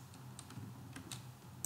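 Light, scattered clicks from a computer keyboard while values are entered into structural foundation design software, soft and close with short pauses between keystrokes and no voices.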